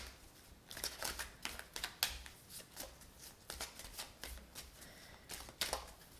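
Tarot cards flicked, slid and laid down one after another over other cards on a table, a close, irregular run of crisp papery snaps and rustles with no talking.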